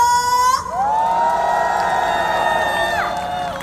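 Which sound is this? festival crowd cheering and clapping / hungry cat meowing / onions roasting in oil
festival crowd cheering and clapping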